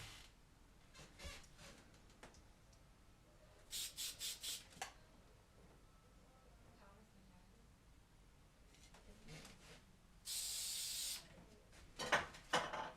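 Several short hiss bursts of working hairspray sprayed upward from the bottom of a bride's boho hairstyle, one longer steady spray near the end, fairly soft and close with quiet handling noise between.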